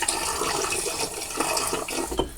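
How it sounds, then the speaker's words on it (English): Water runs and splashes at a sink as a face is wetted before a shave, a steady rushing flow with brief splashy bursts, close and without talk. "let me get some water on my face."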